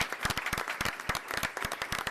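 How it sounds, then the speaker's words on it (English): An audience at a county school board meeting claps for educators, with distinct, fairly sparse handclaps that are close and crisp, continuing steadily through the moment without speech. "Can we have a round of applause for these amazing educators?"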